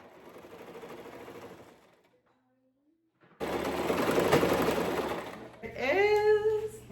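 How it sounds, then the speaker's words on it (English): A sewing machine stitches a dress skirt to its bodice in a loud, fast mechanical run. A voice talks before it, and a short quieter gap and a burst of whirring follow. "then you will sew the skirt to the bodice"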